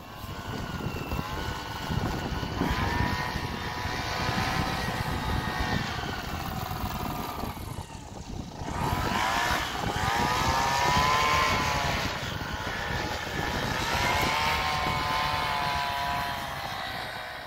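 Paramotor engine drones steadily in flight while gusting wind rushes past, the power easing and dipping briefly mid-way before surging back, then holding a loud, continuous propeller hum throughout.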